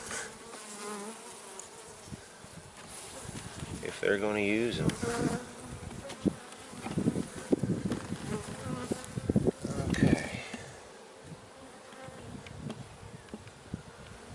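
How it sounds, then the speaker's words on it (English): Honeybees buzz steadily around an open hive during a frame transfer, a close continuous drone with a person speaking briefly over it. "Bees are just working."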